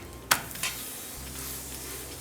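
Paratha flatbread cooking on a pan with a few drops of sesame oil, giving a quiet steady sizzle with a sharp utensil scrape near the start and a softer clink shortly after.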